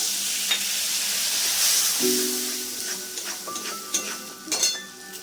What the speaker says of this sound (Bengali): এইটাকে ভালো করে একটু ভেজে নেব এভাবে তেলের মধ্যে দিয়ে ভাজলে রংটা ভালো হয়